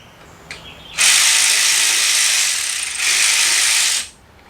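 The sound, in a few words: ratchet loosening and removing a bolt on a Buick Rainier engine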